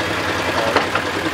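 A diesel engine driving a sugarcane juice press at a roadside stall in Bangladesh runs with a steady, close, rattling drone.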